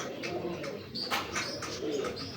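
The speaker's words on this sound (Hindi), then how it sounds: "दोस्तों कोशिश मेरी हमेशा रही है कि मैं आपको तगड़े से तगड़े कबूतर दिखाऊं।" Ferozpuri pigeons, a strong breeding pair with a female beside the male, coo in soft, low, continuous murmurs close by, with a few faint chirps over steady background noise.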